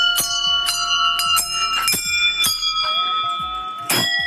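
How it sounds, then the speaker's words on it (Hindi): Several bright metal temple bells ring repeatedly and overlap at a village temple, struck at irregular intervals with long shimmering tails, close and loud. "ये घंटियों की आवाज़ें आपकी प्रार्थनाएं भी स्वीकार करें"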